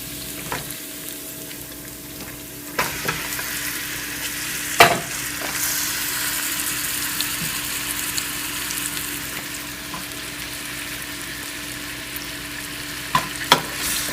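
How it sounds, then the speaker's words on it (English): Beef sizzles steadily as it fries in a pot for Vietnamese beef stew, with occasional scraping stirs and clanks of a utensil cutting through the loud, continuous hiss. "just cook your meat until it's cooked"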